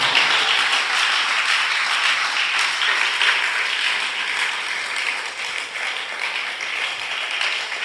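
A church congregation applauding together, a sustained, fairly loud wash of clapping that carries on steadily throughout without talk.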